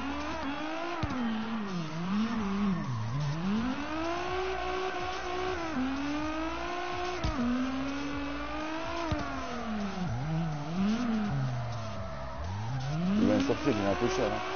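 Drifting car in the CarX Drift Racing video game, with a tuned wheel setup, revving hard as its tires squeal in long wavering slides that rise and fall continuously, loud and close, with no pause for the whole stretch.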